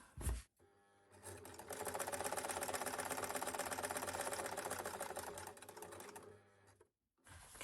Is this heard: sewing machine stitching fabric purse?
yes